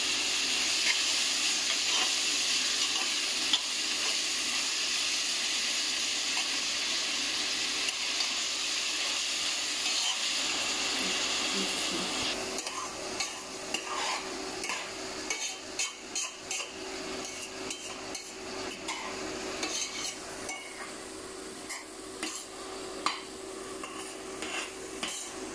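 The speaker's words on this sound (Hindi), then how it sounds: "ओनियन, टमाटर, मिर्ची, ये सबको हमें अच्छे से सौते करना है" Onions with salt sauté in a pan for egg biryani, a bright hiss that fades midway, followed by sparse clinks and scrapes of a spoon against the pan.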